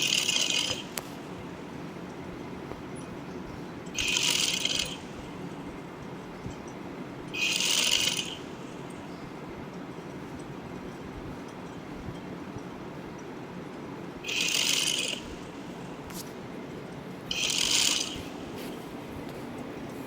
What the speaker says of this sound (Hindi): ये आप देख रहे हैं कि हम गले के अंदर की सिलाई लगा रहे हैं।